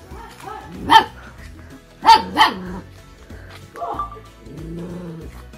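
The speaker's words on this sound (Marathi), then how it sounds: "हा मलाच भुकतोय." A dog barks in short bursts: a single bark, then a quick double bark, followed by softer whining or murmured sounds nearby.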